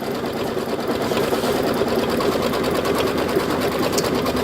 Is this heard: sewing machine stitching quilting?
yes